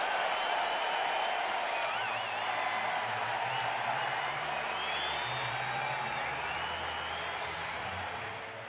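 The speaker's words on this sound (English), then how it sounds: "Ross leaves and the crowd up and appreciative." A baseball stadium crowd applauds a departing pitcher in a Baltimore Orioles versus Washington Nationals game, sustained broad clapping and cheering from a distance that holds steady for several seconds.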